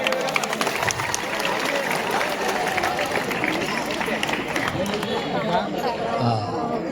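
A crowd claps loudly and steadily at an engagement ceremony, a dense continuous patter of many hands with voices chattering and calling out over it.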